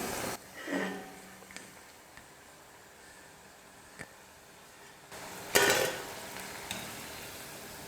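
Potato vadas deep-frying in hot oil give a steady low sizzle, with a few soft scrapes and a louder burst of bubbling and clatter near the end as pieces are moved or lifted out.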